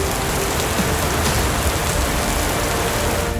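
Steady rain falls in a dense, continuous patter with no pauses, and no voices are heard.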